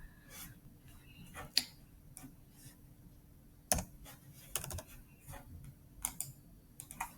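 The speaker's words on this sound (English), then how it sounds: "you press enter." Scattered keyboard clicks and key taps, a few sharper presses standing out, with quiet gaps between them.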